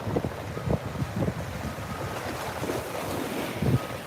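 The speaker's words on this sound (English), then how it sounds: "And look at those waves." Ocean surf washes onto the beach at Hutchinson Island at sunrise under steady wind buffeting the microphone, a continuous loud rumble with swells of breaking waves.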